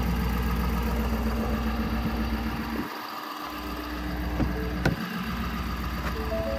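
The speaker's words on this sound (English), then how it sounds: "And sorry for the noise, this engine is loud." A 2023 Ford F-250 XL with a 6.7 Powerstroke diesel V8 idles steadily with a low, continuous rumble, joined by wind buffeting and a few brief knocks and clicks nearby.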